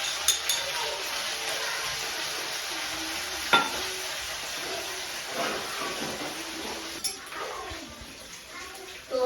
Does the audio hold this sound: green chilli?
yes